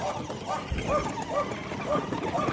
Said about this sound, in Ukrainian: Вот тут гавкає Леон, задовбав